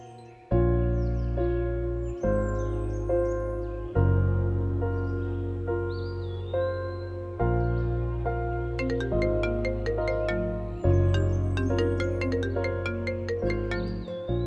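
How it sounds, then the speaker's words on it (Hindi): A melodic electronic ringtone plays loudly and repeatedly, bright chiming notes over a steady bass pattern, with no talking. "ये किसका फोन है?"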